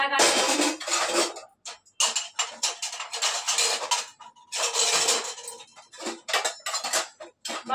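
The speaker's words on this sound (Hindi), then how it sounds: "बर्तनों को भी सुंदर तरीके से लगाना चाहिए किचन में" Kitchen dishes, glasses and cutlery clatter and clink as they are stacked and arranged, a busy run of close, bright knocks and rattles broken by brief pauses.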